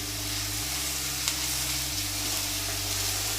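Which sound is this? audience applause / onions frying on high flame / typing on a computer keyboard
onions frying on high flame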